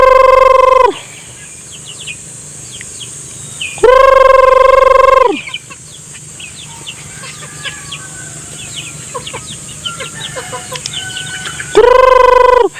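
Hens and a rooster in a backyard coop, with a loud rooster crow at the start, middle and end and scattered clucks and chirps filling the gaps between them.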